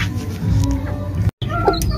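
A hen clucks in short soft bursts inside a cage, close by, with brief clattering and a momentary dropout partway through.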